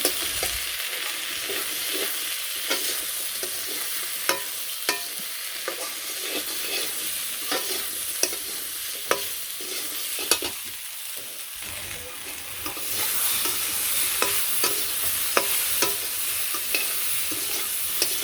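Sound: spices sautéing and being stirred in a pan: turmeric, chili, coriander powder

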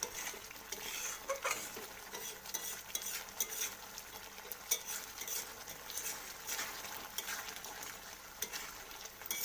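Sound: prawns cooking and being stirred in mustard poppy seed sauce

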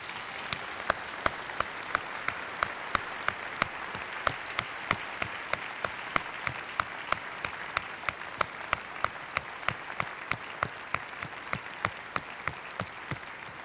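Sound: audience applause after a conference talk

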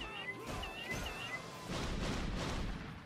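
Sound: cat meowing in Indivisible video game

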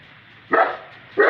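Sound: dog barking as a neighbour drives past

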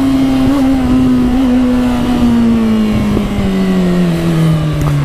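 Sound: Suzuki GSX650F inline-four motorcycle engine revving while riding

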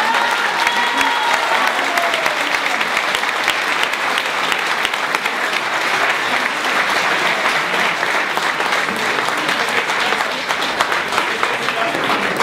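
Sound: audience applause

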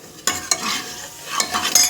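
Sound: stirring and sautéing ground masala in oil

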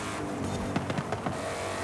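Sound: Ford Mustang engine while driving, from video game Forza Horizon 5

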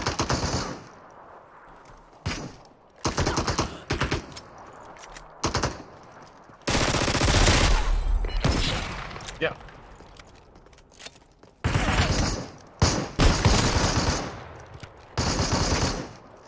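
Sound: shotgun gunfire in the video game Super People

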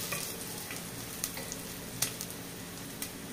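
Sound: onion frying in olive oil in a pan

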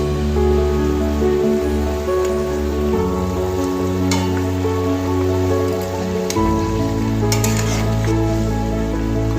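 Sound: fried fish added to boiling fish curry gravy

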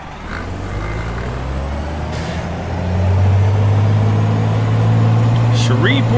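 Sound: truck starting up and air parking brake released, American Truck Simulator game

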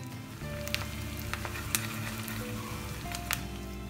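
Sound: tempering with curry leaves and Kashmiri chili powder sizzling in oil

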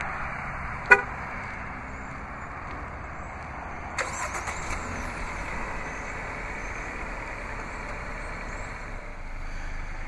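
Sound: Jeep Renegade remote start, engine starting and horn chirp

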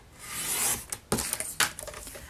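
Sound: cutting cardstock box with a Stampin' Trimmer

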